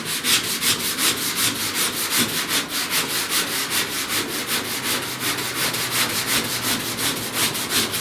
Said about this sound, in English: I'm sanding, I'm rolling my block back so I can kind of sand with the edge of the block